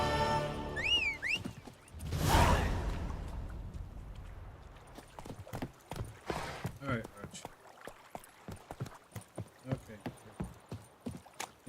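Horse hooves clip-clop steadily in The Witcher 3 video game, a rhythmic run of sharp close hoofbeats that grows clearer and more regular through the second half, following a loud whoosh and a voice earlier on.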